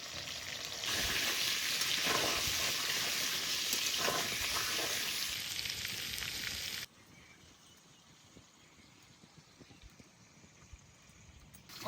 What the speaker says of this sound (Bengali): সব পটল কিন্তু একসঙ্গে ভাজবো না, অর্ধেক অর্ধেক করে ভাজবো।